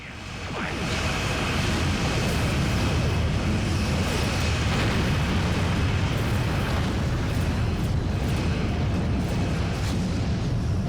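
Dense, continuous roar of heavy weapons fire and explosions in a Star Trek Online space battle, loud and sustained throughout with rumbling booms layered over a constant wash of noise.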